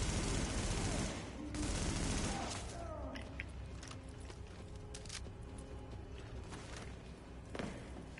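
Bursts of automatic gunfire in The Division crackle and rattle loudly at first, then thin out into scattered shots and mechanical clatter, with voices talking over them.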